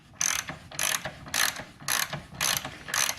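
Six rapid clicking bursts from a ratchet undoing a 15 mm nut on a car's negative battery terminal, close and crisp, evenly spaced with short pauses between them.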